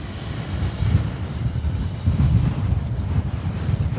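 A FlyFans L-39 RC jet in olive camo with a 64 mm ducted fan comes in to land in the wind, giving a steady, loud whooshing engine roar with gusty low rumble and no talk.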